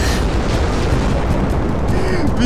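Deep, continuous rumbling boom from a lightning strike in Minecraft, called down by lightning arrows during a prank, loud and sustained throughout with no clear separate cracks.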